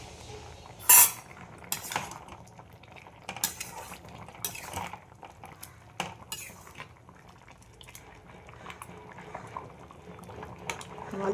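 A pot of potatoes and pumpkin boiling on the stove, with the lid clattering open, then soft bubbling and scattered metallic knocks and clinks of utensils against the pot, fairly quiet.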